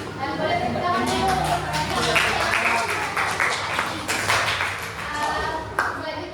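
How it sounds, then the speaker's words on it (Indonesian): Audience applause in a school gathering of Red Cross youth members, a burst of scattered clapping rising and fading across a few seconds, with a voice talking over it. "Boleh tepuk tangan dulu."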